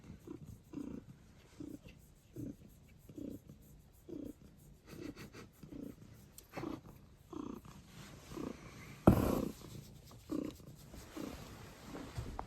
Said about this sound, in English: that's a cat with her 2 kittens that are still on milk